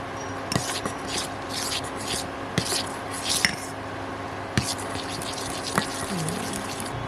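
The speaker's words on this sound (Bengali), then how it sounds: "আমি লেবুর রস দিচ্ছি। আর একবার ভালোভাবে নেড়ে নেব।" A spoon stirs milk curdling with lemon juice in a pot while making chhana, with soft wet swishing and occasional light clinks of metal against the pot, fairly close and steady.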